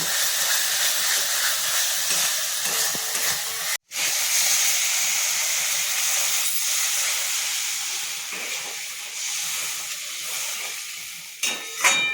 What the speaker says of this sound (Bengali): দেখুন এবার আমি জল দিয়ে দিচ্ছি